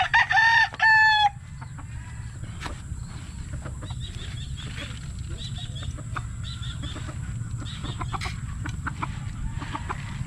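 A rooster crows loudly and close at the start of a rural Philippine yard scene, followed by chickens clucking at a distance over a constant low background hum.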